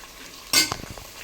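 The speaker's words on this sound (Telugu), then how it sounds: "అవి వేగుతున్నాయి." Onions and whole spices frying in a pan for biryani: one sharp, loud utensil scrape through the pan, then a quieter sizzle and a few soft taps.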